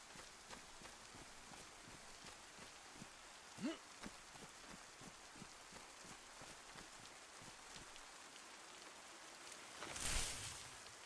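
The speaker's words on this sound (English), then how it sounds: "Fucking raining again." Rain falls in the video game DayZ as a faint, steady patter and hiss with scattered soft taps, a brief louder swell near the end.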